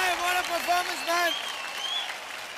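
An audience applauds at the Zee Rishtey Awards 2022 show, a steady wash of clapping heard under a voice with some tonal sound over the first half.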